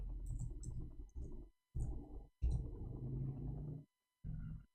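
Someone types on a computer keyboard in several short, irregular bursts of soft close clicking, separated by brief pauses in an otherwise quiet room.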